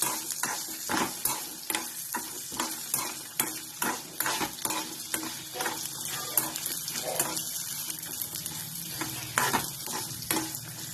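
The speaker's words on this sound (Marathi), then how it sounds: "हे पण चांगलं परतून घ्यायचं." Fresh grated coconut sautéed in a pan: a close, busy run of rhythmic spatula scrapes and knocks over a bed of light sizzling, repeating steadily throughout with no talking.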